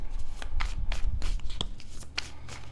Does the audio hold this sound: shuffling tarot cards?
yes